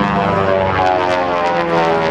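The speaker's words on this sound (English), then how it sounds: "The airplane is actually flying upside down." Steady, loud propeller drone and engine roar from a Beech 18 twin-engine airplane performing an aerobatic roll at an air show, heard briefly and continuously with no talk.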